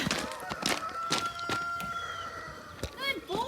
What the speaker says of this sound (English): You've got a rooster crowing.